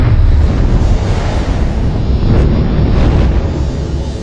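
A deep, continuous roaring rumble of a supernova explosion effect, loud and dense with low-end power and a steady wash of noise throughout.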